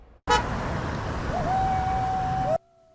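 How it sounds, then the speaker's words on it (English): A car horn blares in one sustained honk lasting over two seconds beside a road during a roadside protest, loud and close over the rumble of passing traffic, cutting off abruptly. "Cars honking, people yelling both for and in opposition of the protest"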